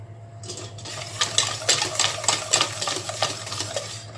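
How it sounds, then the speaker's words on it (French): Clafoutis batter with sugar and vanilla sugar is stirred briskly in a bowl: close, rhythmic scraping and tapping strokes repeat evenly over a low steady hum. "un sachet de sucre vanillé, et on va bien mélanger"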